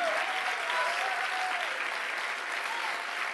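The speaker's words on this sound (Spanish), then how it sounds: "Dale un fuerte aplauso al Señor." A crowd in an auditorium claps loudly and continuously during a 2014 talk, a thick, unbroken roar of hands with a faint voice or cheer gliding above it.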